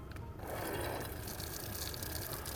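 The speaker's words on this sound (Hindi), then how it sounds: "बस ऐसे ही भर जाएगी बोतल" Water runs steadily from an improvised roadside supply into a bottle, a continuous rushing, gurgling flow heard at close range with no talking.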